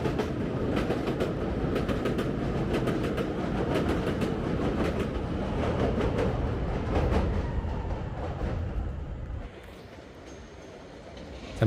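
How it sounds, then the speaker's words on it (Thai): A Chicago L elevated metro train rumbles past nearby on rusty steel tracks, its wheels clattering rhythmically over the rails, then the noise drops away as it recedes. "ในตัวเมืองชิคาโกก็จะมีระบบรถไฟเมโทรเรียกว่าชิคาโกแอลครับ"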